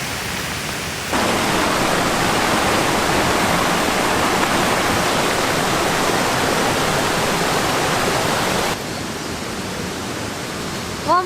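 A small fast-flowing stream rushes steadily in the rain at a campsite, a loud continuous broadband wash that begins abruptly, holds for several seconds and then drops to a quieter background.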